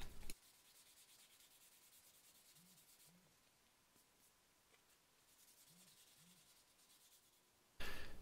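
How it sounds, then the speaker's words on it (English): Sanding scuffs the epoxy-coated surface of a handmade MDF bluegill crankbait lure, a faint steady rubbing hiss held for several seconds between louder handling noises at the start and end. "I'm still going to scuff up the surface and make sure that the primer will adhere"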